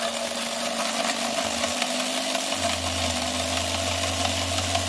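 A model Roma locomotive motor hums steadily, a low even whir that shifts pitch partway through and then runs on continuously, with no talk over it.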